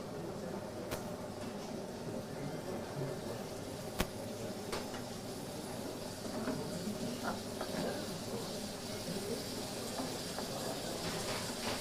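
Meat sizzles and fries in olive oil in a pan, a steady hiss with soft pops and crackles throughout, alone and close up as the meat is sautéed for mıklama.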